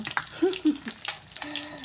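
Sun-dried catfish fries in oil in a non-stick pan, giving a close, crackling sizzle with bursts of popping, as a faint voice speaks nearby.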